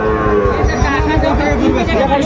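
A young bull calf moos nearby amid a busy crowd at a cattle market in Ambari, Dinajpur, with people chattering in the background.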